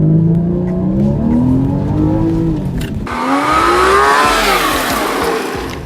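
Porsche Cayman S accelerating hard from a standstill to 60 mph, its engine note climbing loud and close through rising gears, with a brief dip at a shift before surging again.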